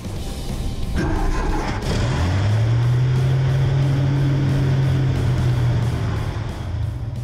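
A 1964 Ford F350 truck engine with a vacuum leak idles and runs steadily with a low, constant hum, close by and fairly loud, after a rough start.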